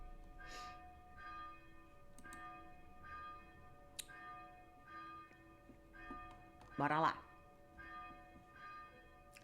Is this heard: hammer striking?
no